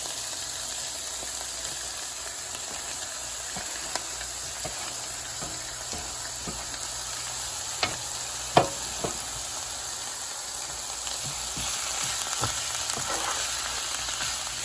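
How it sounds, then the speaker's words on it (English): Meat and vegetables for lasagna sauté in a pan with a continuous even sizzle, close and steady, with a few sharp utensil clicks and scrapes scattered throughout. "And just let that go ahead on and saute up for a few minutes."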